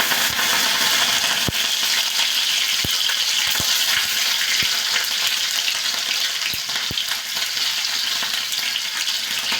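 Green chillies frying in hot oil in a pan, a loud steady crackling sizzle throughout, broken by a few sharp pops and ticks.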